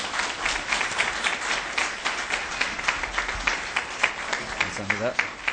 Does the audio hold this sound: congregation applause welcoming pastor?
yes